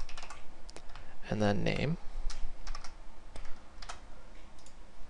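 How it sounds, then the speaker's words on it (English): Typing on a computer keyboard while writing Visual Basic code: bursts of close, crisp key clicks spread through the clip, with someone speaking briefly partway through. "Now type console dot, and this type write line"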